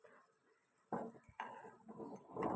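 A steel ladle stirs food in a pot, giving a few separate scraping, clinking strokes against the metal that are close and moderately loud, with a short quiet pause between them.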